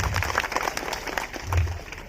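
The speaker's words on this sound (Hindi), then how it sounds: "एक बार उनके लिए जोरदार ताली हो जाए।" Audience applause rises at a World Adivasi Day and Birsa Munda community event, a short burst of clapping from a crowd that swells toward the end.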